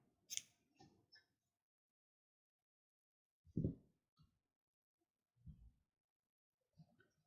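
Scissors snip through red knitting yarn in a quiet room, a few separate crisp cuts spaced apart and heard close up.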